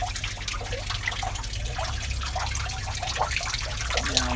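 Water trickles and drips steadily in a home aquaponics setup holding goldfish below and growing purple Swiss chard, a continuous soft splashing with small irregular drops, fairly close and unaccompanied by talk.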